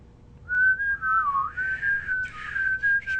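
A person whistles a wavering, sliding tune close to the microphone, several sustained notes with brief breaks, alone over a low background hum.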